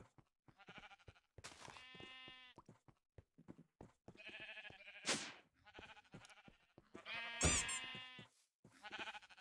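Sheep bleating in the Minecraft modpack Skyfactory 5, several separate bleats at close range with gaps of quiet between them, loud and clear with no talk over them.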